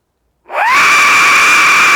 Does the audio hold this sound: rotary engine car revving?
no